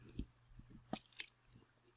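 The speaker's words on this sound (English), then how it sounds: "it's a little bit louder than I thought it would be with her chewing on it" A dog chews on a new toy indoors, producing soft, irregular close-up gnawing and crunching bursts with quiet gaps between bites, fairly faint overall.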